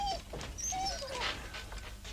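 A dog whimpers with thin, high whining cries at a rowdy tavern table where fish appetizers are being ordered, close by over steady background noise and chatter.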